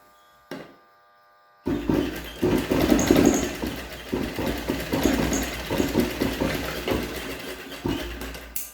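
A sewing machine stitches a cloth mask, starting after a brief quiet moment and then whirring in close, uneven bursts with a fast mechanical buzz that speeds up and slows down.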